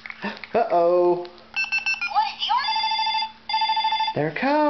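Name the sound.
telephone ringing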